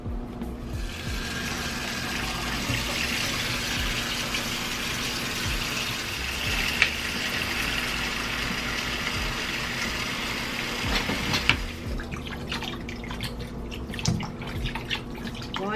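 Water runs from a tap into a pot holding beef bones set to soak for a crockpot soup, a steady close trickling and splashing stream that continues, then stops near the end, leaving scattered drips.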